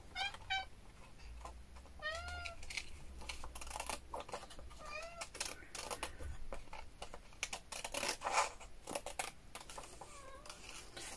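A cat meows for its food indoors. Several short, clear meows come at intervals over soft tapping and rustling nearby.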